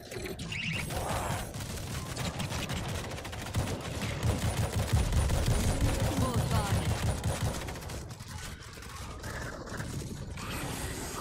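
An automated turret in the zombie shooter World War Z rattling off sustained bursts of gunfire over mechanical clatter, dense and continuous for most of the stretch, with game noise around it.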